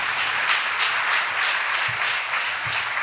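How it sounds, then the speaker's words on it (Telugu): A church congregation at a New Year worship service claps loudly and steadily, many hands together in a dense, sustained wash of applause. "ఒకసారి గట్టిగా చప్పట్లు కొడదాం."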